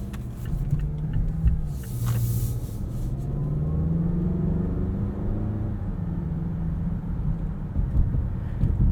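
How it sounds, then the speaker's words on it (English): Engine of a 2022 Mazda CX-9 Signature with the 2.5-litre turbo, accelerating from inside the cabin: a steady low drone rises gradually in pitch under road and wind rumble, with no talking. "Initial acceleration from the CX-9 is really satisfying, really pleasing."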